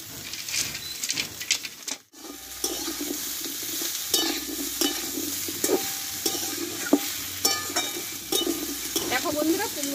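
Pumpkin pieces with panch phoron stir-fry in a little oil, a steady sizzle broken by regular scraping spatula strokes against the pan, moderately close with no talking.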